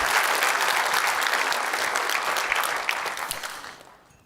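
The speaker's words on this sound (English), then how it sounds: "I do want us all to give them a round of applause" An audience at a medical device industry evening event applauds for exhibitors and sponsors, a dense burst of clapping that holds steady and then tapers off at the end.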